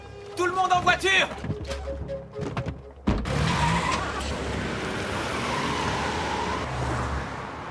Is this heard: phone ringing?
no